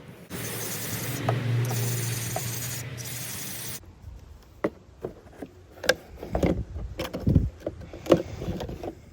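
EGR cleaner and carb cleaner are sprayed onto lambda sensors in a continuous hiss that stops abruptly after about four seconds. Scattered clicks, taps and rubbing from handling the parts follow.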